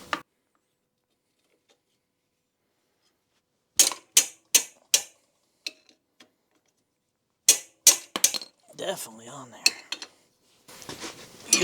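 A 12mm wrench works a bolt loose on a Yamaha Warrior 350 ATV, giving sharp metallic clicks and ratcheting taps in short clusters separated by near silence, followed by scraping metal and a few quiet vocal sounds.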